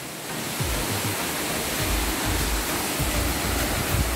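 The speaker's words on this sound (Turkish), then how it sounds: "İşte Mençuna Şelalesi." Mençuna waterfall pours in a loud, steady roar, with low thumps of water and rumbling underneath throughout.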